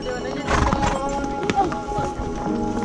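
Horses carry riders uphill on a jungle safari trail near Nainital, hooves clip-clopping in a steady walking rhythm with an occasional whinny, close and fairly loud amid busy outdoor background noise and faint talk.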